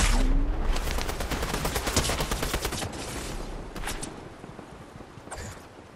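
Rapid bursts of gunfire in the Fortnite video game, a no-build duos match, crackle loudly at first and then keep going as quieter, repeated volleys, with no talking.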